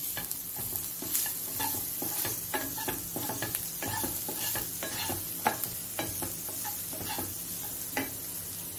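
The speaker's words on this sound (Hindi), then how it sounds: "अभी हम हमारे पाउडर मसाले डालेंगे सारे और उसको भी थोड़े टाइम के लिए भूनेंगे।" Powdered spices for masala oats roast in a pan while a spoon stirs and scrapes repeatedly, soft sizzling beneath the clinks, close and steady with no talking.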